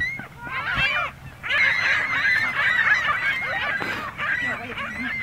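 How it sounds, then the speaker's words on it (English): Seagulls squawk and call repeatedly at close range in a steady, overlapping chorus of harsh, harmonic cries. "They're not pigeons. They're seagulls."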